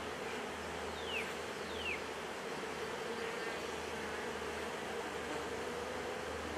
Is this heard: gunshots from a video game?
no